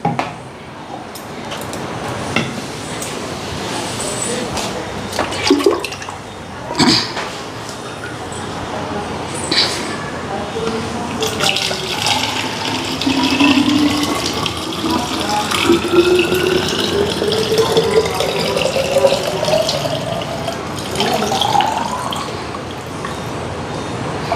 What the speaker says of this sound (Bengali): মার বোতলে জল ভরুম এইটাতেই ভরি নেই